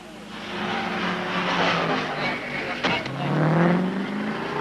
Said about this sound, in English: he's also had a blowout, but still speeding to the pits